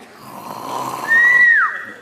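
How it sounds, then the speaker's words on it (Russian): A woman snoring: a single drawn-out rasping breath that rises into a brief nasal whistle near the end, heard up close and alone. "Храпит."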